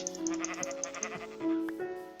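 Sheep in a Minecraft FTB modpack game bleating, a couple of drawn-out wavering blatts alongside faint rhythmic blips from the game, fairly quiet and with no talking.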